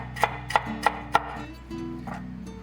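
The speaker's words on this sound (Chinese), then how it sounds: "再切一点姜片。" A knife slices ginger on a cutting board in four crisp, evenly spaced chops, followed by quieter handling sounds.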